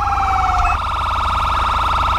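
Dual police sirens from the GTA 5 video game with the ELS mod wail loudly and continuously, two overlapping tones steadily warbling, with a brief pitch shift near the start and no talking.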